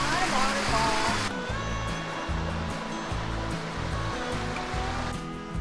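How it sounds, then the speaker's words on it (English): Rushing water at a waterfall along a mountain lake hiking trail, a loud, steady broadband roar filling the whole clip, with a faint low hum underneath and no clear talking. "Standing on a waterfall."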